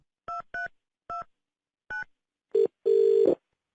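A telephone dialed for a prank call on a radio show: four short, clean keypad beeps at uneven intervals, then a brief tone and a longer ringing buzz, quiet and isolated.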